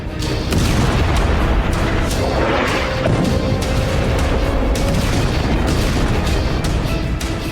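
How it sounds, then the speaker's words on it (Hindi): Explosions from Israeli and US attacks in war, heard as loud continuous rumbling booms and crashes with repeated sharp impacts over a dense, noisy background. "इजराइल यूएस के ताबड़तोड़ हमले"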